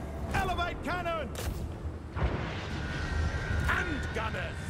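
Cannons fire as booming artillery in the video game Total War: Warhammer, in an Empire battle against Wood Elves. Deep blasts and rumbling roll beneath shouted voice commands and continuous battle noise.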